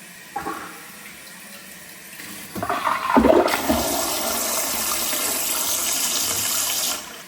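A smart toilet with a built-in bidet, auto lid and 1000 g MaP-rated flush sounds a flush: a few clicks, then a sudden loud rush of water that holds steady for several seconds before stopping abruptly, with no voices.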